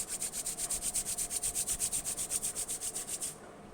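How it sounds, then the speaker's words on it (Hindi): Hands rubbing briskly together up close, about two dozen quick rhythmic swishing strokes at an even pace, then stopping; no talking over it. "अपने हैंड्स को रब कीजिए।"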